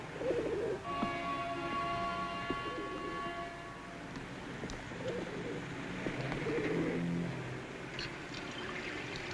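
Pigeons coo softly in a few low, throaty bursts against a steady city hum, with a faint sustained tonal whistle in the background and no voices.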